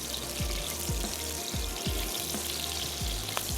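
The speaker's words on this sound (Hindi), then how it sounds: "इसको अच्छा सा फ्राई होने देते हैं" Meat frying with garlic-ginger paste, yogurt, salt and green chillies for black pepper karahi, sizzling and crackling in hot oil up close, with rhythmic scraping thumps of stirring repeating every half second or so.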